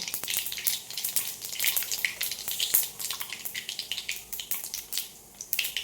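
Cumin seeds frying in hot oil with already-popped mustard seeds for a sweet mango pachadi, a close, bright crackling sizzle with rapid spitting pops that keeps going throughout.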